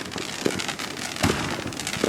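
Fourth of July consumer fireworks in Allentown pop and crackle in several sharp bursts at irregular intervals, fairly close, over a continuous background of distant popping.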